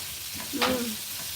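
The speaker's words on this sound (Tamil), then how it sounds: "நல்லா ஃப்ரை பண்ணிட்டு இப்போ காய்கறி வெந்துருச்சான்னு பார்ப்போம்." Vegetables sizzling in a hot pan while being stirred, a steady frying hiss with a brief scrape of the spoon, close up and without talk.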